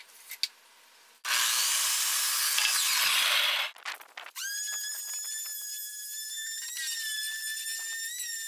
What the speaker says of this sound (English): I have a 7-foot 1x4 Poplar Wood from Home Depot that I'm going to be cutting into a 4-foot rail